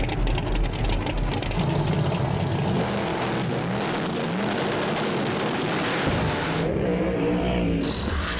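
A twin-turbocharged 2010 Camaro SS no-prep drag race car roars loudly and steadily, its dense engine note rising and shifting, then dropping off toward the end as another engine tone carries on.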